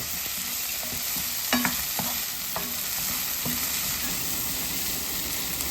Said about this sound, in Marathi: आता हे टोमॅटो टाकल्यानंतर आपण असं अर्धा मिनिट छान परतायचं.